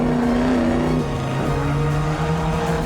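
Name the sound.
classic car engine at Bernina Gran Turismo race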